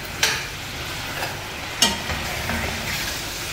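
Squid frying in a little olive oil gives a steady close sizzle, broken twice by sharp clinks as a utensil stirs the pan.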